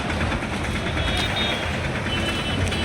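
Heavy, slow-moving traffic on the road between Mohol and Barshi forms a dense, steady wash of truck and car engines, with reversing beeps cutting through the rumble and faint voices underneath.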